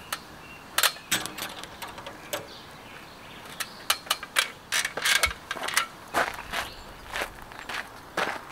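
Door locking mechanism being released on an Iveco Magirus expedition truck: a series of sharp metallic clicks, ratchets and clunks at irregular intervals, close and fairly quiet against a soft background.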